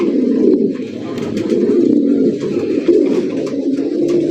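Large fancy pigeons cooing together in a loft, a dense, continuous chorus of low throaty coos, close and fairly loud, with no talk over it.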